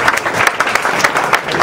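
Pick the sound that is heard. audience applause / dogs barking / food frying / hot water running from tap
audience applause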